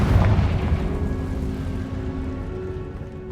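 The Confringo blasting spell explodes in Hogwarts Legacy: a deep boom at the start, followed by a rumbling decay and a faint tonal hum that slowly fades.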